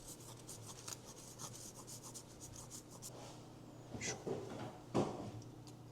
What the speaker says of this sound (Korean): 무슨 그라나돈가 뭐 그런 치즈 조금 갈아 넣고